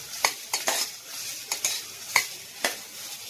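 A utensil stirs garlic and onion frying in a pan in a home kitchen, with about eight quick scraping strokes over a steady faint sizzle, close up and with no talking.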